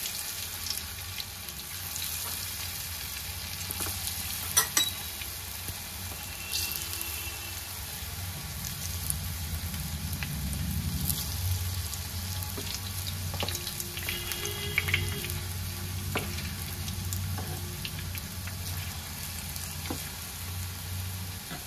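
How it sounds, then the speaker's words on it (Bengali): Puli frying gently in hot white oil on a low flame, a soft continuous bubbling sizzle with a low steady hum underneath, sustained and even with no talking. "তেলটা গরম হয়ে গেছে, এবার পুলিগুলো দিয়ে দেবো। লো ফ্লেমে হালকা করে ভেজে নেব।"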